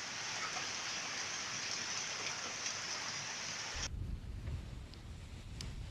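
Heavy rain pours steadily during a thunderstorm with hail in Espírito Santo, with wind buffeting the microphone; the downpour stays loud and continuous, its texture shifting abruptly partway through to a lower, gustier roar.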